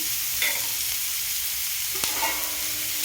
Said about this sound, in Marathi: आता थोडंसं असं हलवून घेते एकदम परतून